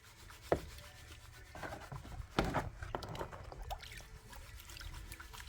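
Wet gravel and black sands rubbing and trickling in a large gold pan as it is swirled by hand, with soft scraping and a few sharper clinks, steady and close with no talking.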